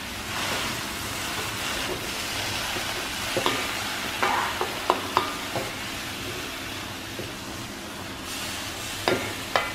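Pumpkin shoots and fresh shrimp stir-fried in a pan give a steady, close sizzle with scattered clinks and scrapes of the spatula, heard alone without talk.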